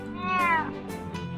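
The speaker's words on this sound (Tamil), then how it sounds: "ஓ பூனை கத்திட்டே இருக்கு" A cat in a Roblox Pokémon-style game meows repeatedly, a drawn-out falling meow followed by shorter cries, heard over a steady humming background.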